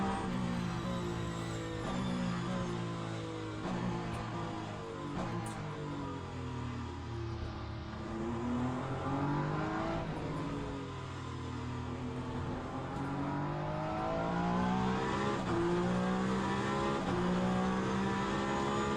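A race car in the Le Mans Ultimate racing game, with the Tifosi Italia content, pulls onto the start-finish straight: a steady, layered engine drone rises and falls through gear changes at moderate volume, with no voices.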